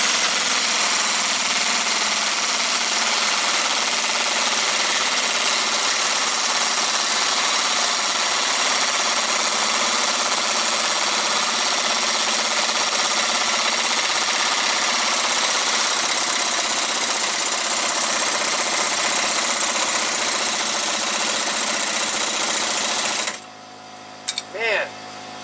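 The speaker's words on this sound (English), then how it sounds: "let's see if the 8-gallon compressor can finish this job off." An 8-gallon air compressor drones loudly and steadily for over twenty seconds while working on an Audi A4 wheel bearing job, then cuts off, leaving a few brief clanks.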